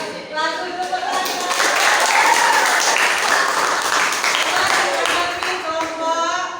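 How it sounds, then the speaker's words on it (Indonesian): Students at a high school event applauding in a sustained burst of dense clapping that swells and holds, with a few voices mixed in under the noise. "Langsung tepuk tangan."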